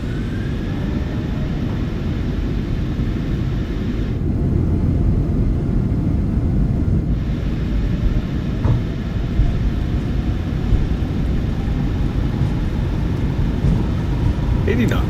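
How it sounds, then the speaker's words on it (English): Twin jet engines of a PMDG 737-800 in Microsoft Flight Simulator 2024 spool up to takeoff thrust, a loud continuous roar and rumble that holds steady throughout. "We'll go TOGAT, set takeoff thrust."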